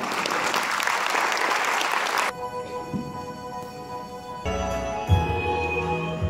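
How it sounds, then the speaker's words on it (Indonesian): Audience applause in an event hall, dense clapping for about two seconds that cuts abruptly into a quieter stretch with music-like tonal sounds underneath. "Boleh kita berikan tepuk tangan sekali lagi Bapak Ibu sekalian untuk Bapak Martinus."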